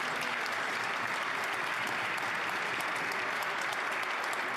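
Applause fills the House of Commons chamber during Question Period, a steady, even wall of clapping from many members that runs without pause at moderate volume.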